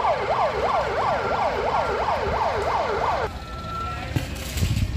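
A fire engine siren wails in a steady rising-and-falling cycle while responding to a juice shop fire on a city road in Lucknow, loud for about three seconds before cutting off into traffic rumble and a brief tone.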